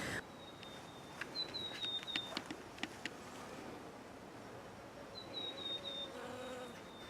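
Solitary bees and house flies buzz steadily close by in a garden, with a few brief bird chirps and faint rustles over a constant background hiss.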